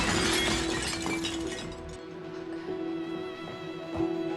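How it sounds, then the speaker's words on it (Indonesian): Porcelain plate dropped at breakfast in a film scene, shattering loudly at once into a burst of breaking shards that fade into a quieter room tone. "Membuat piring porselin pemberian Evelyn itu terjatuh dan pecah berserakan."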